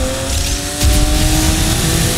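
Mercedes GT V8 4.0 racing in the video game Need for Speed Heat, a loud steady engine drone with a surge of revving and tire noise partway through, no talking.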